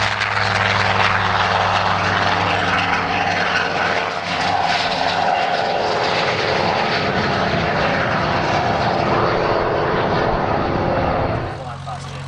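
A Learjet and an L-39 jet flying past at the Wings Over the Illawarra airshow, a loud sustained engine roar that holds steady then drops away, with an announcer talking over it.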